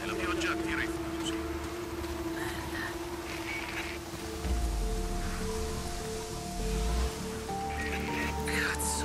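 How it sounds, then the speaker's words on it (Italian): In the video game Days Gone, rain falls as a steady hiss under game music and low rumbling effects, with characters talking over it. "Comincia a piovere."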